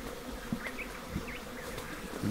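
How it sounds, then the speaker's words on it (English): Honey bees buzzing around a relocated hive, a constant close drone with individual bees whining past the microphone now and then, their pitches rising and falling as they circle. "The field bees have come back to where they think home is, but they're flying around"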